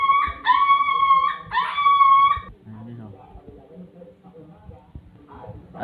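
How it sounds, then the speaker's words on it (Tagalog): A dog howls twice in long, wavering cries, followed by quieter low whimpers and background murmuring, with talk present. "yung umiyak na aso"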